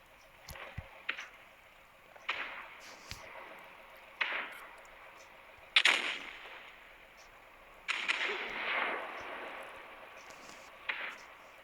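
Tank cannon fire in an online tank battle game: several sharp, separate shots a second or two apart, each a hard crack followed by a short fading tail, with engine drone faint underneath and no talk.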